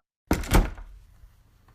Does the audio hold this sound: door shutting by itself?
yes